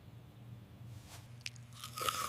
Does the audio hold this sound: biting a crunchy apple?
yes